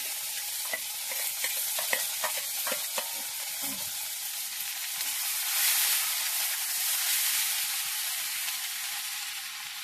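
Onions fry in a kadai for Tamil Nadu-style idli upma, giving a loud, steady sizzle with early scraping stirs and a surge of hissing midway.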